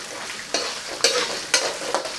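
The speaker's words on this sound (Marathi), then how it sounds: "लसूण सुद्धा या तेलामध्ये आता चांगला परतून घ्यायचा।" Whole garlic cloves fry in oil with peanuts for Kolhapuri bhadang, stirred in a steady rhythm of spoon scrapes roughly every half second over a continuous close sizzle, with no talking.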